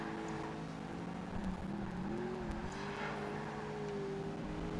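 Race car engine in Project Gotham Racing 2 during a street race, a steady droning note rising and falling in pitch as the car accelerates and shifts, with continuous road and tyre noise and no talk.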